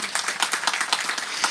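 A short burst of hand clapping at a village religious talk, many sharp claps in quick irregular succession, moderately loud and close, like a small group applauding.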